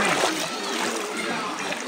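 Water splashes and rushes steadily at Penchalakona waterfall, a dense, continuous wash of spray and falling water that stays loud and even throughout.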